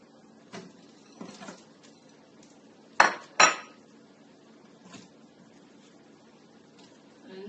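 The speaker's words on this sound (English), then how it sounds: "And then I'll be adding all of these to the blender." While a Jamaican brown seasoning is being prepared, chopped onion and other seasonings go into a blender with a few soft knocks and two sharp clattering clinks of pieces dropping against hard glass or plastic, close by in a quiet kitchen.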